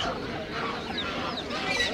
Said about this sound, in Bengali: এখানে কিছু দেশি মুরগি আছে।